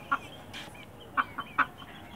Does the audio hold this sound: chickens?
yes